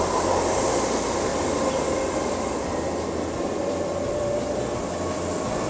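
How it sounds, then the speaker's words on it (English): A train pulls out of Bath Spa station in the UK, giving a steady, loud rumble with a faint high whine running under it. No voices are heard. "So that's my train leaving from Bath Spa."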